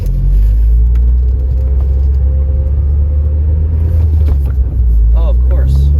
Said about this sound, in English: I'll floor it in second gear and see how it does.